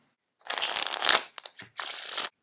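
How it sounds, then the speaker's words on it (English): A Daniel Madison deck of playing cards printed by the United States Playing Card Company is riffled and shuffled at close range, a few crisp bursts of fluttering card noise with short pauses between. "Pharaoh shuffles with this deck are also no problem."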